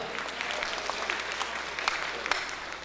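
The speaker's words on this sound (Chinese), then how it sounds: "再一次掌声，谢谢他们" Concert audience at a Hakka music performance in Taipei claps in sustained, dense applause, a steady wash of hand claps filling the room.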